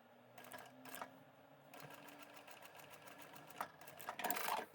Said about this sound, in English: we're going to sew straight across that